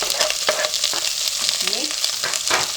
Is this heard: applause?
no